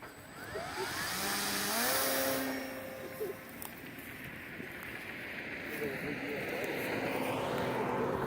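A Volantex ASW-28 RC glider's electric motor whines steadily during launch outdoors, a loud close drone with shifting tones that swell and fade as the model climbs away.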